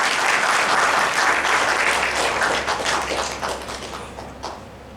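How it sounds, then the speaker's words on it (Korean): A church congregation at a Sunday morning worship service bursts into dense, loud applause that holds steady for several seconds before thinning out into scattered claps. "자축하는 박수로 스스로 박수 한번 해주세요"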